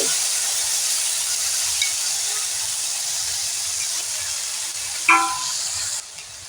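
Chili powder, turmeric and ginger paste mixed with a little water frying in hot oil for a cauliflower paratha filling, a steady close hiss with a brief sharper crackle near the end and no talking.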